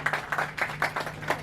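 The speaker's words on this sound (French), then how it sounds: "je demande les acclamations des parents et de tout le monde" Parents and audience applaud at a training-project presentation ceremony, a short, light burst of scattered clapping heard at a distance.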